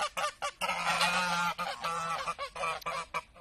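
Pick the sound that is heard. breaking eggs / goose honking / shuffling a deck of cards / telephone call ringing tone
goose honking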